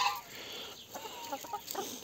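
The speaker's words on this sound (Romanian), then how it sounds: "Aici avem cocoșelul." Hens and a young rooster cluck and chatter close by in short, irregular bursts, a small flock of fowl sounding off without any talking.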